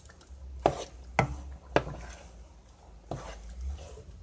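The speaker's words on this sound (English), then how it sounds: "Let's give that a good stir." A spoon works through tomato stew in a pot for jollof rice, making a few distinct scraping knocks against the metal at irregular intervals, close and moderately quiet.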